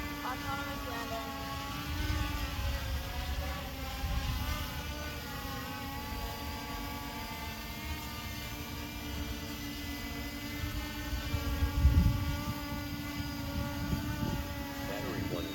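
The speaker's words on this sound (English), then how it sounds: "Returning to launch. Autonomous landing." A small multirotor drone on a search-and-rescue flight returns to its launch point and lands on its own, with a steady close motor whine and a brief bump near the end, under a faint voice.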